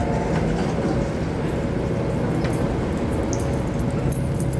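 An MTR train ride in Hong Kong, heard from inside a carriage as a steady, loud rumble with faint rattling and rail noise. Nobody speaks.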